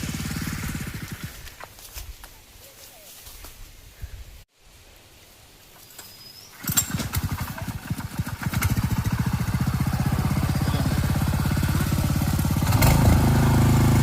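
A tractor engine runs in a steady, rough drone on a farm field, quieter at first, then louder and continuous after a pause, with a few sharp knocks.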